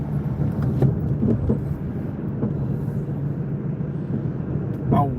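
A steady, full low road rumble of a car heard from the inside during a 40-minute drive, continuous and fairly loud with slight swells, and no distinct events standing out.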